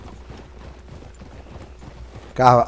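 Hooves of a Campolina horse clip-clop in the video game Red Dead Redemption 2, a soft rhythmic beat over quiet game ambience that ends in a sudden loud burst.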